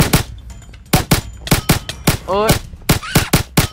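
Rapid bursts of gunfire in the Minecraft SCP video game, a fight against SCP-3199 mutant creatures: loud, sharp repeated shots in an uneven rhythm, with a brief shouted voice partway through.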